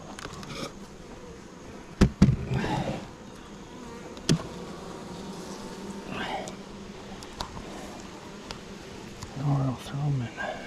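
Honey bees buzzing around an open beehive during an inspection of a requeened hive in September, a faint steady drone with occasional closer passes, under soft talk and a few sharp knocks of equipment.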